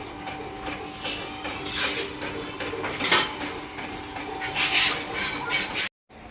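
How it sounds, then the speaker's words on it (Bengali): Puffed rice roasts at a muri factory with continuous rattling and scraping, like grains tossed against metal, rising in clattering bursts at close range before cutting off abruptly. "দেখো মুড়ি ভাজা হচ্ছে"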